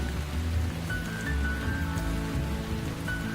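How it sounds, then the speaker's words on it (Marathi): First rain of the season falling: a steady patter of rain on surfaces, even and continuous for a few seconds, moderately loud and close, with no talking. "हा पहिला पाऊस आहे"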